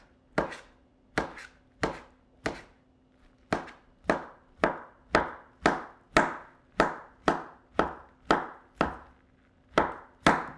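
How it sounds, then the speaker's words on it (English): A knife thinly slicing rolled layers of cooked egg on a cutting board, a steady series of about fifteen crisp, close chops in an even rhythm, each a sharp tap with a short ring, alone without talk. "And then we can do a little thin slice."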